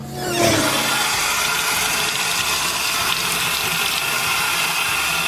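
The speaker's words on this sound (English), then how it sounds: "So let's rinse it off with some water." Water gushes steadily from a tap rinsing an engine part, a loud continuous hiss and splash close by, with no voices.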